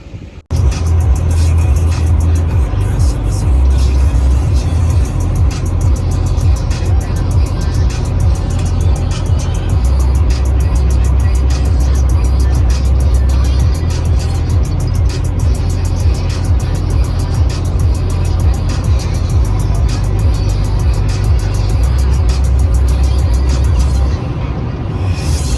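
Steady car engine and tyre rumble on a long highway drive, heard from inside the vehicle, continuous and loud throughout with a low droning hum and no talk.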